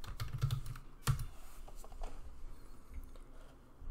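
Quick, uneven keystrokes on a computer keyboard as commands are entered into PowerShell on a virtual machine, close and fairly faint, with one sharper key clack.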